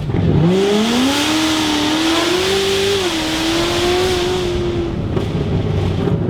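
Modified 920 HP Corvette ZR1 accelerating hard, its loud, close engine note climbing steadily in pitch through the gear before easing off, alone without talk.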